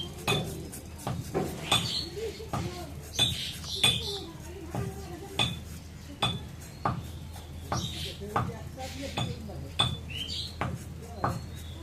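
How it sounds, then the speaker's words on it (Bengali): Potatoes cut with a knife in a home kitchen, with steady rhythmic chops and knocks on a board, close and moderately loud. Faint clinks of utensils and birdsong sit in the background. "এখন আলু কেটে নেই"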